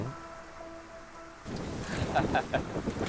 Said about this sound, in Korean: 한산하던 농장에 바람이 불기 시작합니다